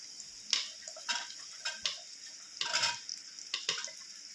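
Carrots and green chillies with a little turmeric fry in oil in a village-style kitchen, with soft bursts of sizzling as they are stirred, each rise fading back to a quiet hiss.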